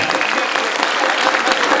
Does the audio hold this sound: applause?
yes